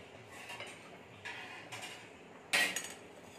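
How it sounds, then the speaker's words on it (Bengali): A metal lid is set onto a pan of milk-soaked patties in a home kitchen: a few light, scattered clinks, then one sharper, louder clatter near the end, with no talking. "এবার আমরা এটাকে একটু হালকা করে ঢাকা দিয়ে দেবো 5 মিনিটের জন্য।"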